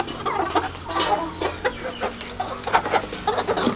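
Several roosters and hens cluck and murmur close by in a backyard coop, a busy overlapping chatter of short calls with no speech.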